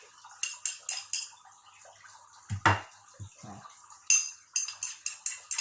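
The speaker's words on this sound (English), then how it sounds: "Okay, then continue to mix them together" Chinese cucumber salad with garlic and coriander is tossed in a bowl, a series of quick clinking and scraping strokes from a utensil against the dish in rhythmic bursts, close and crisp, with a short lull and a few soft knocks midway.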